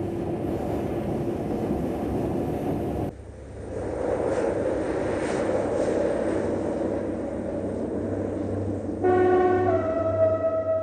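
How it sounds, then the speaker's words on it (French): An SNCF freight train passes at a remote halt on a mountain line, a continuous rumbling roar that dips briefly, then swells again, ending with a sustained tonal horn-like whine. "le train passe la halte perdue de Claveyzol"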